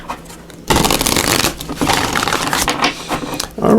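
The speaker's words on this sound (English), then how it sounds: "I'll just give these a shuffle here" Tarot cards riffle and shuffle in several quick bursts, close and crisp, with short pauses between each pass.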